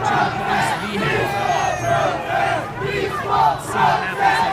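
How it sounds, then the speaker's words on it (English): An anti-Trump protest crowd at night in Oakland chants in loud rhythmic surges, a dense mass of voices rising and falling in a repeating pattern. "Chanting peaceful protest."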